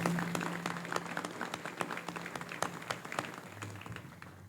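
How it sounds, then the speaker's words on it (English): Round of applause at a U.S. Army Reserve assumption of command ceremony outdoors, a modest crowd clapping with distinct individual claps, fading slightly near the end. "give them all a round of applause for this ceremony"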